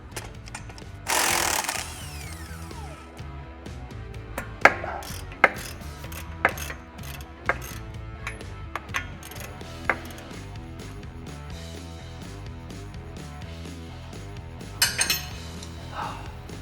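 A hand ratchet works on the factory 18 mm stabilizer bolt of a Ram 2500/3500 truck, giving a scattered series of quiet clicks and metallic taps with a brief burst of louder noise near the start.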